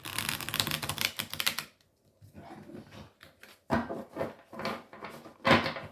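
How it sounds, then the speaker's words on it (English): Rapid clicking riffle of a Marseilles tarot deck being shuffled, a long dense burst followed by several shorter flicks and pauses, close and fairly quiet. "They have a very nice shuffle to them."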